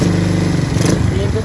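A small motorcycle engine, such as a Honda Wave or XRM110, idles steadily up close with an even, continuous putter before a kill switch is tested.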